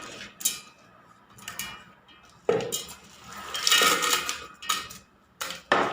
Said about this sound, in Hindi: अब मसाले को जार के अंदर डालेंगे।